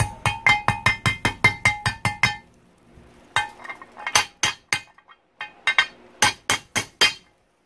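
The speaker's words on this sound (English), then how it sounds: "When you saw me hit with the hammer, I try to avoid hitting the inside of the bearing" Rapid series of sharp metallic hammer taps seating a cold bearing into a Yamaha YZ125 transmission, about a dozen in quick rhythm, then a short pause and more spaced, uneven taps, close and crisp.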